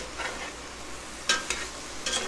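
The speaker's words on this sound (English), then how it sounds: "I like to stir kind of fast, but I'm going slow just because I got so much in there" A spoon scrapes and pushes a full pan of ground meat and fresh vegetables while it sizzles, with a steady frying hiss under a few slow, soft scraping strokes.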